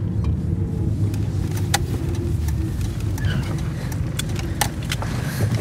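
A car comes to a stop, with a low, steady engine and road rumble heard from inside, broken by a few sharp clicks and knocks.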